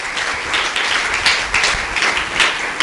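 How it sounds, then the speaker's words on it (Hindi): Loud crowd applause erupts at a Hindu religious gathering of Pakistani Hindus at Govardhan Math Puri, dense rapid clapping that swells and ebbs over a few seconds. "तालियां बजाएंगे।"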